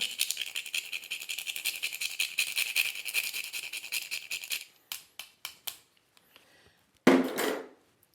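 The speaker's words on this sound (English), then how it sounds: "Let's grate some fresh cinnamon over there." A fresh cinnamon stick is grated for a Bad Santa bourbon cocktail, giving a steady rapid rasping scrape for several seconds, then a few separate short strokes and a final clattering knock, close and clear.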